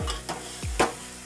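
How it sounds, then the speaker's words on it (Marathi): Eggs sautéed in a pan over a low gas flame for an egg curry, a few distinct stirring strokes against the pan over a faint background sizzle. "आता हे जरा परतून घेऊया आपण, दोन मिनटं बघा, बारीक गॅसवर चांगलं परतून घेतलेलं आहे"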